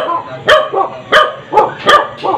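Dogs barking in a rural Philippine village at night, several sharp barks in an irregular rhythm at moderate distance, with faint background sounds between them.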